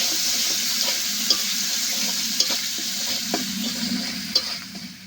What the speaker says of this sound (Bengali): এবার মশলাগুলো বেশ ভালো করে একটু কষে নেব।